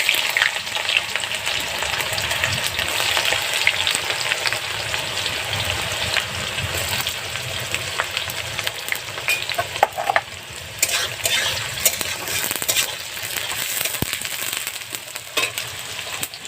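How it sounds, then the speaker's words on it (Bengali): Cumin seeds and onions fry in a pan over a wood-fired clay stove, a steady close sizzle with scraping stirring sounds throughout and no voices. "প্রথমে ফোড়ন হিসেবে জিরে দিয়ে দিলাম, তারপরে আমরা পেঁয়াজগুলোকে দিয়ে দেব"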